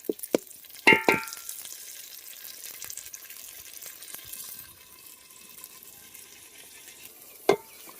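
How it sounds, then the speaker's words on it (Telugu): Spinach cooking in a pot with salt, chili powder and turmeric, a few sharp stirring clanks of a spoon against metal over a low steady simmer, close by and without talk. "పాలకూర అయితే బాగా ఉడుకుతూ ఉంది కదా"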